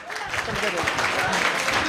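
Students at a NEET coaching session clap together, a brief, dense burst of applause at moderate volume with voices mixed in.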